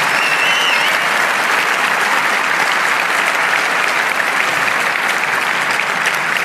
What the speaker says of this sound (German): Und jetzt bitte nochmal mindestens genauso viel Applaus für die ganzen Leute, die hier sitzen